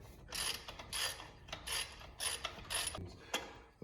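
A ratchet extension tool clicks as it swivels a belt tensioner out on a Mustang engine, giving bursts of sharp metallic ratcheting in an uneven rhythm of short strokes, close and fairly quiet, with no talking.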